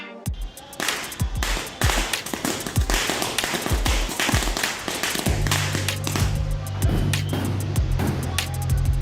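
A rapid string of sharp Diwali-style firecracker pops crackling continuously, loud and close, with a low rumbling hum joining partway through.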